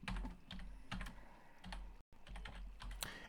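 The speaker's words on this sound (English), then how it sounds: "Then you type in /HQM edit." Quiet, close typing on a computer keyboard, a quick irregular patter of key clicks with a brief pause midway, and no voices.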